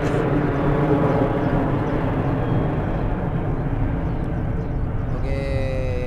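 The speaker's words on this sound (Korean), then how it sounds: "아 비행기 지나갔다." An airplane passes overhead as a steady, broad rumbling roar that holds for several seconds before easing slightly, with no talking heard.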